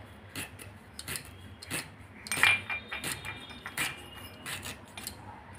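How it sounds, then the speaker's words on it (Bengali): A knife finely chops peeled ginger on a board, making a string of crisp, irregular taps and clicks, close and fairly quiet, with no speech. "এবার একদম মিহি করে কুচিয়ে নেবো"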